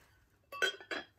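Early American pressed glass with a small sawtooth pattern clinking as it is handled, two quick, faint, bright taps close by in a quiet room.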